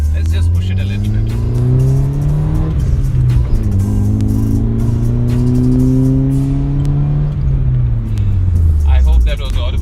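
A modified Honda City with Raj headers and exhaust accelerates through several gears, its exhaust note rising in pitch and dropping at each shift, loud and close from inside the car with a person talking over it.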